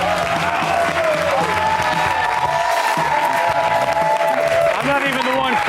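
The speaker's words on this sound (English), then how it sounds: "this audience was clapping so loudly" A studio audience at a comedy show claps and cheers loudly and continuously, a dense wall of applause with musical tones and voices layered over it.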